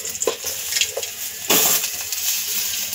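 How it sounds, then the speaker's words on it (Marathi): Onion is stirred and fried in oil in a kadhai, a continuous close sizzle broken by a few scraping stirs of a spatula against the pan. "त्याच कढईमध्ये आता आपण कांदा 2 मिनिटं परतून घेऊया"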